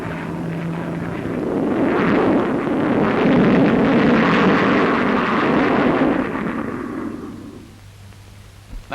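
A supersonic jet fighter at the Farnborough air show passes overhead in a broad, roaring rush that swells to a loud peak midway and then fades into the distance, with no voices over it.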